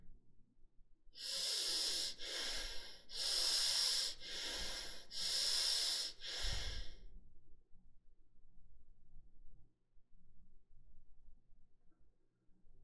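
Slow, deep belly breathing during a meditation session: three long hissing breaths close to the mic, each lasting about a second or two, followed by quiet near-silence.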